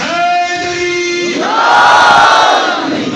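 At a Shia religious gathering, a single voice calls out, then a large crowd roars back the slogan Naara-e-Haideri in a loud, sustained unison shout.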